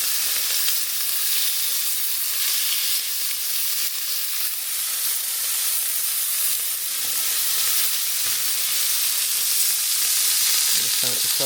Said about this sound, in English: I'm just going to fry some of those rump steak pieces.